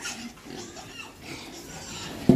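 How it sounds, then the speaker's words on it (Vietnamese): Pigs feed at a trough on homemade pelleted feed, with soft, scattered snuffling and chewing noises and a brief louder grunt near the end. "Heo của mình coi nó dành ăn hay không nè"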